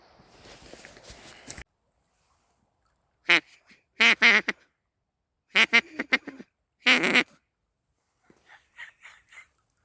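A duck call blown in short bursts outdoors, imitating quacks: a brief rustle, then four separate raspy quacking phrases of two or three notes each, with faint real duck quacks trailing in the distance.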